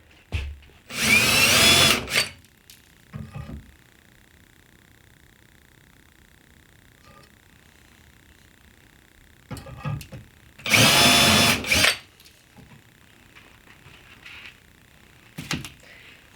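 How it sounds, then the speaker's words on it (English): A power drill bores holes through a kitchen island in two loud whining bursts about a second long. Quiet pauses separate them, with small knocks and handling noises in between. "I'll take the drawers off and then I'll drill the holes right through."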